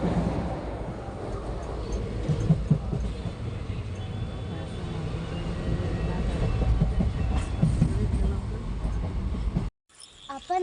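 A passenger train near Elathur runs along the rails, a loud steady rumble with rhythmic clatter throughout before cutting off abruptly near the end.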